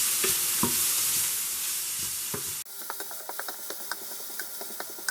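Bitter gourd shallow-frying in a pan, a dense hiss of oil that drops abruptly, then clicking, scraping stirring strokes in quick succession, close and without voices.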